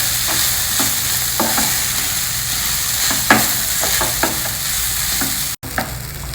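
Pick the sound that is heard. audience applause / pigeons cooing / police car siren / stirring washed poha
stirring washed poha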